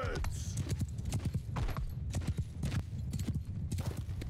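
Cavalry horses gallop across a battlefield in Mount & Blade II: Bannerlord, a dense, continuous drumming of many hooves with sharp bursts over it, with a voice talking over it.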